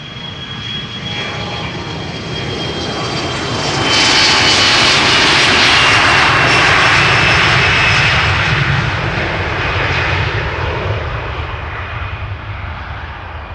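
An Airbus A321 departing Amsterdam Schiphol produces a continuous jet engine roar with a high whine that builds to a loud peak and then eases slightly, heard close up and alone.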